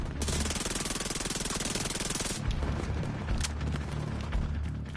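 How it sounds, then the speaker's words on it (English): Rapid automatic fire from an SMG in the video game The Division 2, a dense unbroken burst at a very high rate for over two seconds, then quieter game ambience with scattered distant shots. "So this is a really good SMG."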